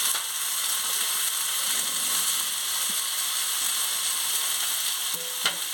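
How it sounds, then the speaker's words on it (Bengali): Potatoes and mixed vegetables stir-fried for a Bengali kudli potato chorchori, with a steady close sizzle of hot oil and a few scraping spatula strokes against the pan near the end. "এবারে আমি আনাজের সঙ্গে আলুটা দিয়ে দিচ্ছি।"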